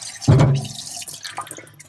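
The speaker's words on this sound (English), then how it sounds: "you want to do that under running water so the slurry clears, so you don't wind up with buildup" Running tap water flows over a Tomo Nagura stone during lapping, heard as a brief, loud splashing gush near the microphone that then settles into a softer, steady trickle.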